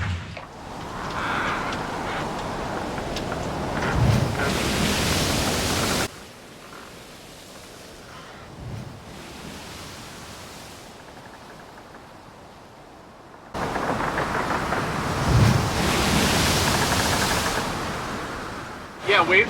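Ocean waves and strong wind surround a sailing boat at sea, a broad rushing roar that surges loud, drops to a quieter wash for several seconds, then swells back up.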